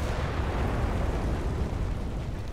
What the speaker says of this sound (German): Sagte er, als die Bombe kam.